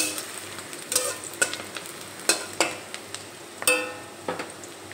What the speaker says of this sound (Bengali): এখানে এই পেঁয়াজ হালকা ব্রাউন কালার করে ভেজে নেব।